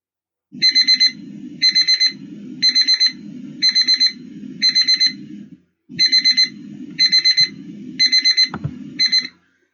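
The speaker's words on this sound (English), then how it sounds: "that was my alarm because I got something on the burner" A kitchen timer alarm goes off with loud, close bursts of rapid electronic beeping, repeating in regular groups with a short pause partway through.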